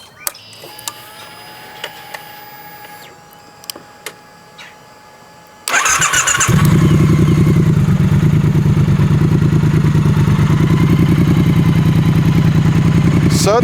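Engine of a 2016 Triumph Bonneville T120 motorcycle cranks and fires up after a few quiet clicks, then settles into a loud, steady, throbbing exhaust idle close to the microphone.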